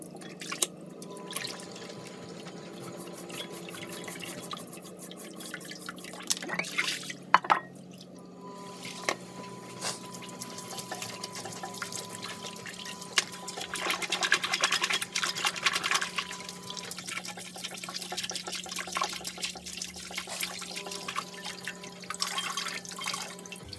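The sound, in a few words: water running in sink rinsing Dyson brush bar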